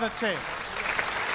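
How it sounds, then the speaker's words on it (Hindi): Audience at a comic poetry gathering (kavi sammelan) in Thailand clapping, a brief burst of applause right after a short spoken word, continuing as a soft, even patter. "एक बार आप ताली बजा दीजिए तो मैं शुरू हो जाऊं"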